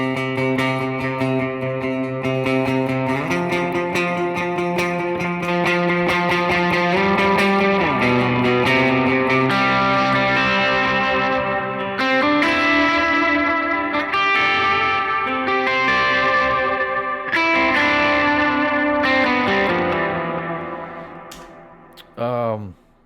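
Electric guitar with a crunchy overdrive tone plays sustained chords and shifting notes, loud and upfront, then fades out near the end with a brief final strum.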